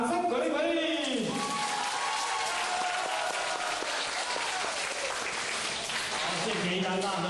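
Indoor audience at a group camp event breaking into a warm round of applause, dense clapping sustained for several seconds with a voice talking over it.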